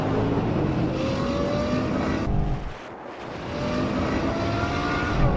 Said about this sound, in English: This M8 is destroying a Ferrari!